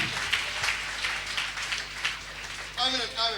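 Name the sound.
congregation applauding to acclaim Jesus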